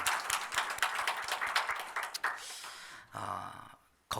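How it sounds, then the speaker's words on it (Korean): A church congregation claps during a Korean worship service, rhythmic hand claps that build, then fade into a brief lull and a short burst at the end. "우리 하나님께 영광의 박수 올립시다."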